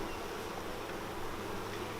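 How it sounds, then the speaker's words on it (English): Honeybees buzz inside an opened nucleus colony, a dense, steady hum from many bees close by, with no voices. "Then we will open up the nucleus colony, and you can see there's lots of bees in there."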